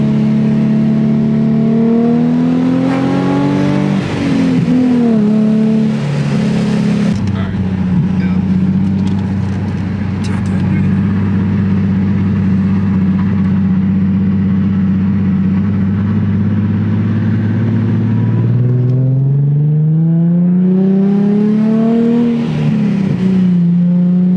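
A Nissan 350Z with a welded differential accelerates hard on a test drive, its engine loud and close, climbing in pitch through the gears with a shift break, holding a steady drone, then winding up again near the end.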